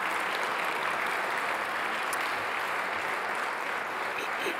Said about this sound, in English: I think we should do one more round of applause for our award winners, please.